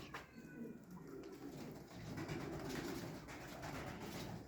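Soft, low pigeon cooing repeats steadily amid a faint background hum, with a few higher bird chirps near the start.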